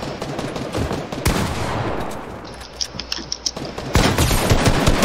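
Rapid bursts of gunfire from a Fortnite box fight, dense overlapping shots from more than one shooter with a few sharp isolated cracks, loud and close.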